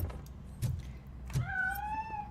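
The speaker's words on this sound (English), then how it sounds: "That cat must be hiding inside." A cat meows in RoboCop: Rogue City, a single drawn-out, rising-then-falling cry heard up close, after a couple of soft thumps.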